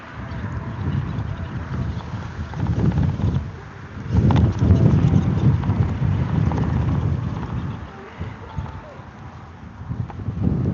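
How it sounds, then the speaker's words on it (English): Wind at an outdoor street protest in Dublin buffets the microphone in steady, rumbling gusts that swell and fade, with scattered clopping and people talking faintly underneath. "Oh my goodness, this wind."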